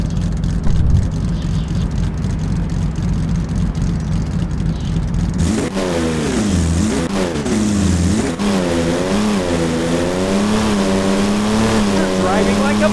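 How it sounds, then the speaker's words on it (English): A limousine's engine in a driving video game, first a steady low drone, then revving hard with rising and falling pitch as it accelerates, loud and close, with a voice talking over it. "You're driving like a maniac!"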